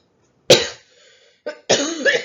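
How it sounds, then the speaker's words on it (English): One person coughs hard and close, a sharp burst followed by a short second cough and a longer rough hacking fit, with no speech. "I have a cough, I can't get rid of it."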